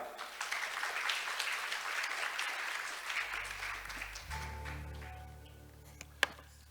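Audience applause fills a hall at the close of the final session of a Jeju youth-and-jobs conference, steady broadband clapping for about four seconds before thinning out, with a low hum and a few scattered claps and taps at the end.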